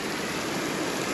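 Water pours through gaps in the sluice gates of the Velliyur check dam on the Kosasthalai river, a close, steady rushing roar with no break.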